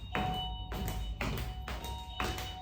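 Four dull knocks on a door, evenly spaced and fairly faint, each a soft thud against a quiet background.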